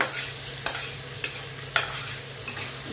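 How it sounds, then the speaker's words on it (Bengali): Chicken being moved into a large pan for chicken masala pulao, a quiet steady sizzle with four sharp scraping or knocking stirs spaced out, close by and without talk. "এরপর আমি চিকেনটাকে দিচ্ছি, এটা ট্রান্সফার করছি আমি বড় জায়গা"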